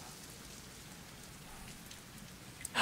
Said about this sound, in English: Oh, acid rain.